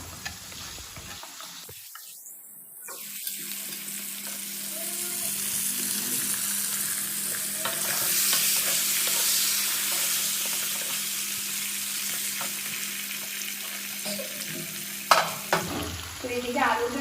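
Chopped pointed gourd (potol) frying in a pan, a steady sizzle rising after a brief pause, with a few clanks of stirring near the end.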